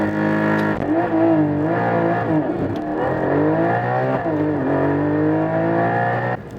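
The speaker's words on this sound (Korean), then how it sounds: "런치 컨트롤을 통해서 가속을 이어가는데요" Porsche 718 Cayman GT4 with a 428 hp mid-mounted flat-six launching hard under launch control, engine loud and close, revs climbing and dropping through rapid gear changes across the whole stretch.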